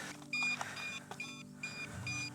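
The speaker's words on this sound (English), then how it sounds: "Constant beeping with these drones." Repeated high-pitched electronic beeps from a DJI drone in short bursts, several tones sounding in a pattern over a low background hum.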